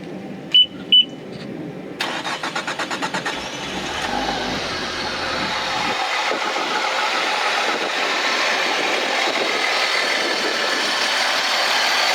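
A Honda BF225 outboard engine on flush muffs starts with a quick series of cranking pulses and then runs at a steady, loud idle. Water hiss and engine noise continue without a break.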